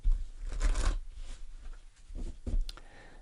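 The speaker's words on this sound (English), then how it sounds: "I'm going to do one more shuffle." Tarot cards being shuffled in a few quick riffling bursts with short pauses between, close and soft.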